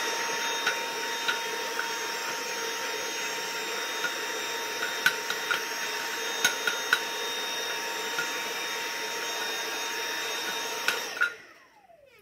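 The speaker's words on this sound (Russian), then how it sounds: "Беру пылесос, вот такая вот насадка для пылесоса, и очень легко" A Dyson V8 cordless vacuum cleaner with a nozzle attachment runs steadily while dusting a removed ceiling lamp shade, a loud continuous whine with occasional small clicks and knocks, then it switches off and winds down at the end.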